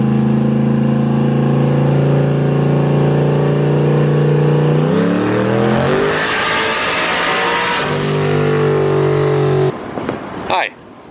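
A twin-turbo Ford Mustang on a dyno, tuned on E85 with a Holley Terminator, revs hard through a loud pull, its engine note climbing steadily before backing off and settling to idle near the end.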